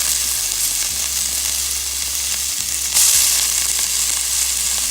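Tomatoes and onion fry in a pan with a loud, continuous sizzle and spatter that gets a sharp burst of hiss partway through, close-up and with no voices.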